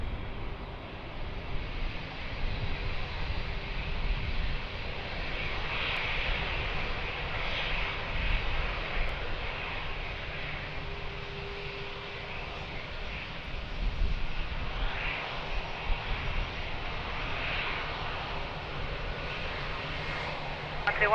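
An airliner landing at Lisbon Airport makes a steady, moderately distant engine roar that swells and eases slightly over about twenty seconds, with no voices.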